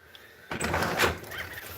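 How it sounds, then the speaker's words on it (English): A triple-locked door is unlocked and swung open, a sudden clunk about halfway through followed by a sustained, fairly loud rumbling scrape that fades slightly at the end, with no one speaking. "This is a triple locked door on a miracle walk day."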